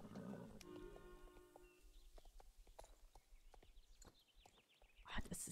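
Horse hooves clip-clop in a steady walking rhythm and a horse whinnies, from the Star Stable Online riding game, with a louder burst near the end over a light game backdrop.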